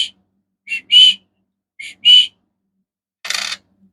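A person whistles to imitate Puerto Rican coqui frogs, giving two quick paired chirping whistle notes, then a hissy burst, clear and close against silence.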